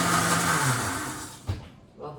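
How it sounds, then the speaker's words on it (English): A Vitamix blender whirring as it blends tofu, a loud high rushing roar that cuts off abruptly, followed by a brief clunk and a short renewed burst. "So I'm gonna dump this into my blender, and this is just a Vitamix,"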